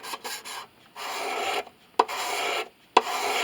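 A scraper rasps across the wood of a Baader lion's head violin under repair in several close, steady strokes, with short pauses and sharp clicks between some of them.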